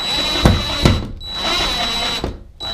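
A power driver sets a metal screw into a plastic anchor while a sliding glass shower door is installed, giving short, loud whirring bursts broken by brief pauses and knocks, close to the mic.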